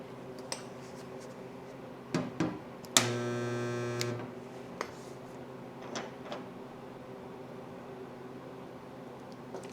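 Spot welder dent puller firing once in a one-second buzzing zap with a steady electrical hum, preceded and followed by faint clicks and taps in a quiet workshop.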